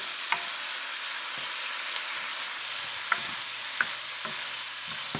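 Pepper fish cooks in a pan with a continuous soft sizzle, broken by a few sharp ticks and a low stirring sound partway through, with no one talking.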